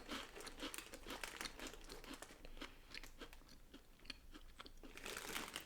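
Small cheesy cracker-like crisps being chewed up close, a run of quick dry crunches and crackles coming in irregular bursts, fairly quiet with no talking.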